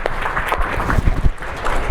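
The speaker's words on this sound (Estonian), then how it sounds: "aitäh teile enda aplausiga ära." Audience applause at a science café talk on art and rationality at the AHHAA centre, a short burst of dense clapping from a seated crowd, fairly loud and even.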